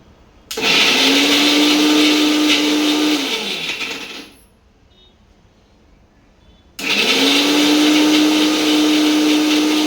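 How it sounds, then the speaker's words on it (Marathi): A mixer grinder blends tomatoes with a little soaking water, a loud steady motor whir that runs for about four seconds, stops briefly, then starts up again and keeps going. "बटन ऑन केलं आता मिक्सर फिरवून घेते"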